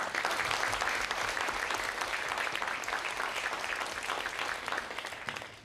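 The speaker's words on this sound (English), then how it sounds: "Please give them a round of applause." An audience at a brain education symposium held at the United Nations headquarters applauds international olympiad competitors, a fairly quiet but continuous patter of many hands that tapers gently toward the end.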